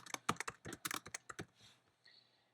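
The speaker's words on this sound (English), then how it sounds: "I'm just going to type in a couple of things" Quick bursts of keystrokes on a computer keyboard, a close run of crisp clicks that thins out toward the end, with no talking.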